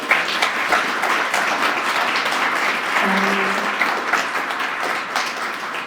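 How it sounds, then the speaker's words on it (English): A crowd at a drug summit applauds steadily, dense clapping sustained throughout without any talking. "Can we just get a big round of applause for them?"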